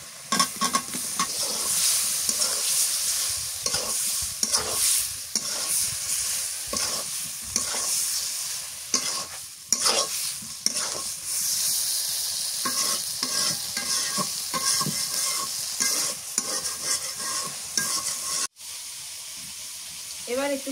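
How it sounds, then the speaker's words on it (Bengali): Eggplant frying in a pan with spices and green chili paste while a spoon stirs it, a continuous loud sizzle broken by repeated scraping and clattering strokes, close by, with no voices. "বেগুন দিয়ে দিই"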